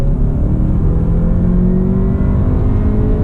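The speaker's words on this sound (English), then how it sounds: "The engine sounds pretty darn good for a 4-cylinder" A 2019 Kia Optima midsize sedan's four-cylinder engine revs up loudly and steadily, its pitch climbing smoothly as it accelerates, heard close up from inside the cabin.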